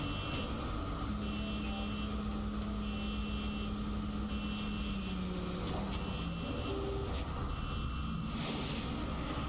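An interceptor aircraft launches upward in XCOM: Enemy Unknown, giving a steady, loud engine drone and whine with a rising tone through the whole stretch, with no voices.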